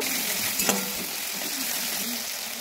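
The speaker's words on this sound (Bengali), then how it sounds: "একটা বড় সাইজের টমেটো কুচি দিয়ে দেবো, দিয়ে একটু কিছুক্ষণ ভেজে নেব" Chopped tomato fries in hot oil spiced with bay leaf, giving a steady close sizzle with a brief clatter of stirring near the start.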